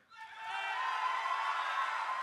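A live audience at a Digital Fight Club cyber debate cheers for debater Mitchem, the whooping and shouting swelling quickly and then holding steady and loud.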